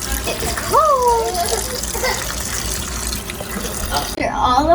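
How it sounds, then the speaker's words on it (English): Cold water gushing from a tap over drained pasta in a kitchen, a steady loud rush of pouring liquid throughout, with a voice and brief squeaky sounds over it. "now we're going to pour cold water over"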